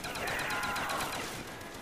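Rapid automatic gunfire in a zombie video game rattles in quick bursts, fairly faint and compressed, with no talk over it.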